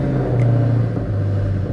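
Loud cars rumbling and revving past in the background with a low, droning engine tone that rises and falls.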